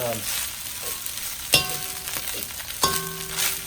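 Cooked crab fried rice, Thai style, sizzles steadily in a hot pan while it is reheated, with a few sharp scraping stir strokes cutting through the continuous frying hiss. Close up, no talking.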